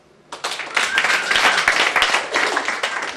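An audience at Gotham Comedy Club breaks into applause, a dense and steady burst of clapping that swells after a brief quiet start and holds for a few seconds.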